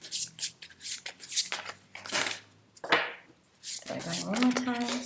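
Tarot oracle cards riffle and slap in a series of quick, close shuffling bursts, followed by a brief crackle as a deck is opened, with no talk over it.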